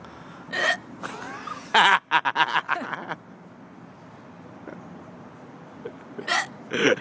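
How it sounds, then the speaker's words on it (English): A person hiccups repeatedly in a quiet room, several sharp close bursts in an irregular cluster, then a few more after a pause, with faint background noise and no talk. "Hiccups are nasty."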